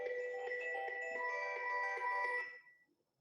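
A phone ringtone chimes steadily and faintly in the background for a few seconds during an online meeting call, then cuts off abruptly, leaving near silence.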